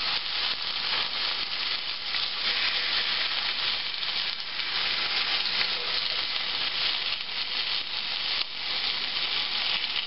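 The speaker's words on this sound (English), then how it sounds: "Well, it's all sizzling up like crazy." Chicken fat sizzles hard in a hot pan over medium-low heat: a steady, dense, crackling hiss that runs unbroken and close, with no talking.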